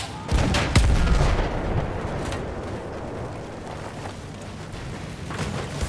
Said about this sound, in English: Oh, field gun! Good call out!